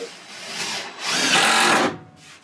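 A cordless power drill drives screws into wooden shelves in two close whirring bursts, the second longer and louder, with a short pause between them.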